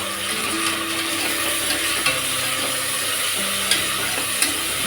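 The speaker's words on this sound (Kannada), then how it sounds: "ಟೊಮೆಟೊನ ಸ್ವಲ್ಪ ಚೆನ್ನಾಗಿ ಫ್ರೈ ಆಗಲಿ" Chopped tomatoes with mint fry in a pan for a soya chunks pulao, giving a constant close hiss of sizzling broken by a few soft utensil clicks and stirring scrapes, with no voices.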